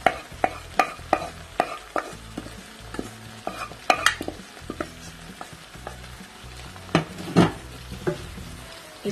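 Chana dal frying in a pan with a karela (bitter gourd) dish, stirred in repeated scraping strokes over a steady low sizzle, close and fairly loud with no talking.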